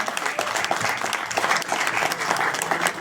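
Enthusiastic applause from an audience at a heavy metal book presentation, close and dense, with steady overlapping claps filling the whole stretch and a few voices faintly mixed in.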